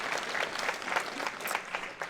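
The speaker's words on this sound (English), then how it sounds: "one last round of applause for our lovely 5 defenders and their fantastic book choices" Applause rises from an audience at a public library book-debate event, a quiet, steady patter of many hands clapping at a distance, uninterrupted by talk.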